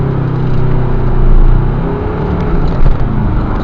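A 2006 Ford Ranger Thunder double-cab 4WD with a 2.5 diesel accelerating from rest, a loud, steady cabin rumble and engine drone that swells slightly as it pulls.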